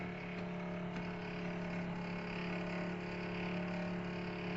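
A DC servo motor runs at a set speed of 2200 with a steady, close electric hum and whine. A constant tonal drone holds without change for several seconds.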